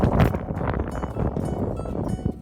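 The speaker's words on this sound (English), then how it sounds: "Wind is just taking me too." Gusting wind buffeting a microphone while out kayak fishing on open water, loud rumbling blasts that swell and ease unevenly, strongest at the start, with no clear speech.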